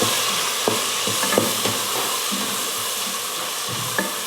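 Masala powder and tomatoes sautéing in a pan for chicken biryani, a dense continuous sizzle with several sharp spatula knocks and scrapes against the pan, close and fairly loud throughout.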